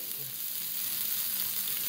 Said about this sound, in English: listen for the sizzle. That means the pan's nice and hot.